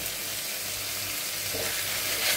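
Spice paste of coriander powder, turmeric, salt and sugar fries in a pan with a dense, continuous close-up sizzle. Faint occasional stirring scrapes sound underneath, with no voices.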